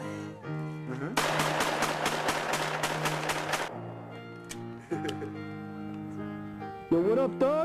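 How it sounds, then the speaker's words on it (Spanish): Rapid burst of roughly a dozen evenly spaced gunshots, hunting-style shooting, fired in quick succession for a couple of seconds, loud and close, with voices and tonal sound before and after. "Y se grababan haciendo disparos como de caza."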